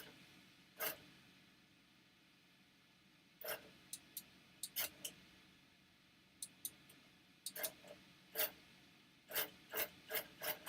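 A longarm quilting machine bastes a quilt in a quiet room, making sparse sharp ticks and rasping clicks, first singly and then in quicker clusters toward the end.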